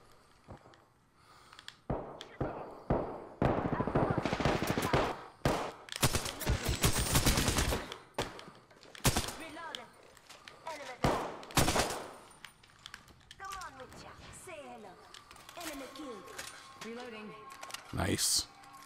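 Bursts of SMG fire in the Apex Legends video game come in rapid, loud rattling volleys separated by pauses, with a player talking over parts of the action and other game sounds scattered between.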